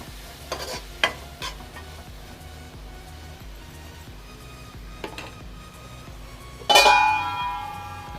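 Egg masala frying in a pan, with a few soft stirring scrapes early on and a sudden louder sizzle that flares up near the end and slowly fades.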